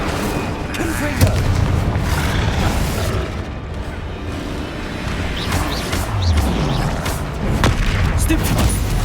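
Deep, booming Confringo spell explosions blast repeatedly in a Harry Potter wizarding video game, loud and dense with rumbling impacts throughout.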